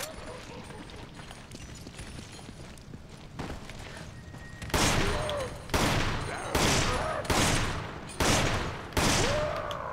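Gunfire in the video game Resident Evil 5: a run of loud, sharp bursts in the second half, each followed by a short decay, with quieter game ambience and a voice talking beforehand.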